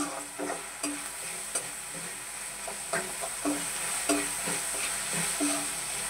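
Masala macaroni sauce stirred in a pan over a low flame, a soft continuous sizzle broken by repeated spoon scrapes and taps at an uneven rhythm.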